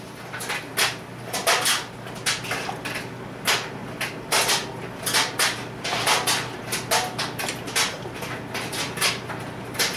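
Deer chili with dark kidney beans being stirred in a pot, giving a steady run of soft scraping and clinking spoon strokes in an irregular rhythm over a low constant hum, close by with no talking.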